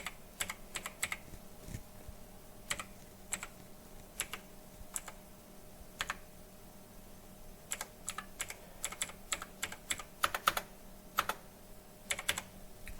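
Keys clatter on a computer keyboard as someone types in a reference number, quick bursts of clicks with short pauses between them, close and fairly quiet with no talking.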